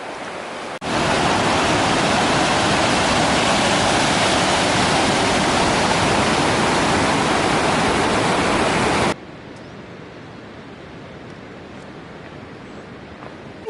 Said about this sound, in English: A few little river crossings like this, but just ploughing through them.